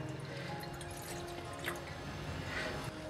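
Water is poured from a cup into a pan on a gas stove, a soft, steady trickle and splash, faint and close, with no talking.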